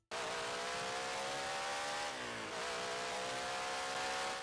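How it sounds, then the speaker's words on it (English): A screaming V8 in a lightweight 2021 Tonameo Delta 230 Strada from the Roblox game Test Drive holds a loud, sustained high rev, dips briefly mid-way and climbs again, with no voices. "Oh yes, this car sounds so beautiful."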